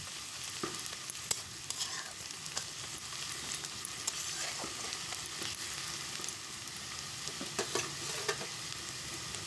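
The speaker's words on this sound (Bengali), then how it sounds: "রসুন বাটাও ভালোভাবে কিন্তু ভেজে নিতে হবে।" Garlic paste and onion frying in oil in a pan, a soft continuous sizzle with scattered crackles and occasional scraping stirs, close and quiet, no voices.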